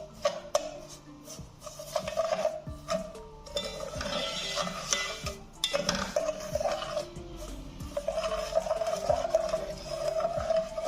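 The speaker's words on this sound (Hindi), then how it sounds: "साथ साथ चम्मच चलाते रहना ताकि चीनी हमारी जो है ना अच्छी तरह मेल्ट हो जाए" A spoon stirs and scrapes sugar melting in a pan over a very low flame, with repeated clinks and scrapes of metal against the pan going on steadily throughout.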